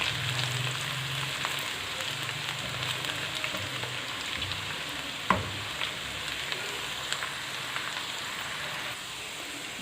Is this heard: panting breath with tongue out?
no